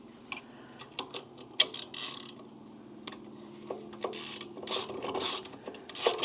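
A ratchet wrench tightens a 5/8 bolt holding the 2-inch ball hitch on a cheap Harbor Freight towable backhoe, with repeated clicking and ratcheting bursts, close and fairly loud, with short pauses between strokes.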